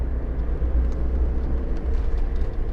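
Constant deep engine hum and road noise from a Toyota AE86 Corolla GT Twin Cam 16 sports car on the move, loud and steady throughout with no voices.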